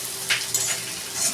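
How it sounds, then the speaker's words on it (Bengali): Ginger and garlic frying in a pan for a mung dal with fish head, a quiet hiss with a few brief scraping strokes of stirring. "এবার আমি এর মধ্যে আদাটা আর রসুনটা দিয়ে দিলাম। এবার একটু নেড়ে চেড়ে"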